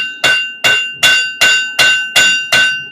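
Seven evenly spaced, ringing hammer blows land close and loud as a blacksmith flattens the end of hot steel on an anvil, each strike sharp with a short metallic decay.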